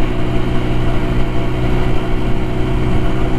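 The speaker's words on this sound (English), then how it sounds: "Well, Nelly, here comes this diesel." A diesel vehicle on the road is heard from a 150cc motorbike on an early morning ride, a continuous low engine rumble that stays fairly loud and steady throughout.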